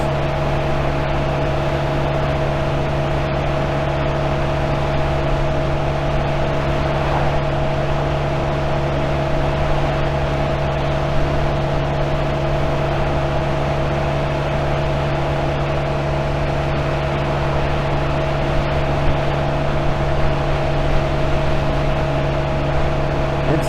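A Honda Navi scooter engine at full throttle while riding gives a steady, loud, constant drone with a strong hum and wind rush throughout, unchanging and alone.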